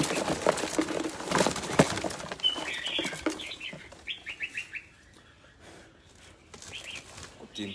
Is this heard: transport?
no